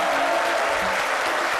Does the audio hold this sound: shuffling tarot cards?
no